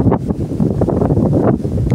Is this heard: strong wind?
yes